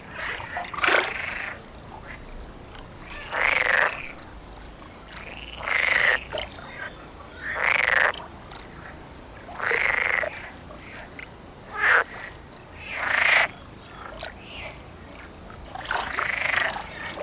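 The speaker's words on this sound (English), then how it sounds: "The chorus of croaking calls occurs mainly at dusk or at night" A chorus of frogs croaking at dusk, the calls coming in regular loud bursts roughly every two seconds, each a rasping pulse standing out against a quiet background.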